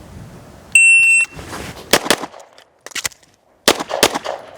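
Pistol shots from a CZ Shadow 2 on a range during a reload drill: a shot timer beep, then two quick loud bangs, a pause, and two more sharp pairs of shots, close and echoing.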